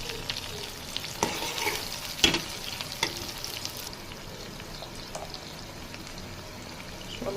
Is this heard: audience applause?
no